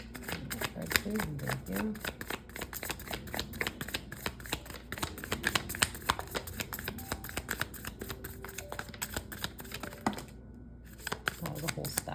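A stack of tarot cards is shuffled over and over, dense rapid riffling and flicking clicks close up, with a person speaking briefly over it and a short pause near the end.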